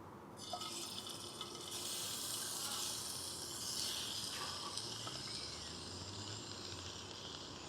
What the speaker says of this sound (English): Now I'm starting to hear a little more sizzle